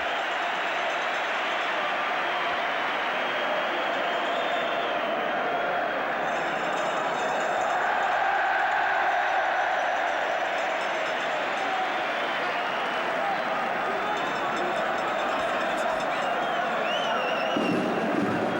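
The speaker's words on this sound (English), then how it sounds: "the Villa crowd are shouting, "We want Saunders."" An Aston Villa football crowd at the 1975 League Cup Final shouts and chants as one continuous, dense roar from a large stadium, rising and falling without a break.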